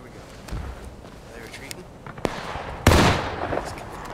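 Musket shots ring out in the Civil War battle game War of Rights, a few scattered sharp cracks followed by a louder, booming blast that rolls away, with players talking over the action.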